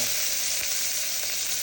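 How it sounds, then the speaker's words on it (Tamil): Onions frying in hot oil inside a pressure cooker, giving a loud, continuous sizzle close up with faint stirring, and no one talking. "வெங்காயத்தை போட்டு வதக்கிடுவோம்."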